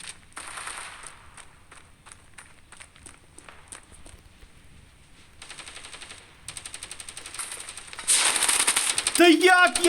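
Gunfire in the mobile shooter Standoff 2, with repeated automatic bursts and single shots mixed with footsteps, growing louder and denser toward the end as a fight breaks out nearby.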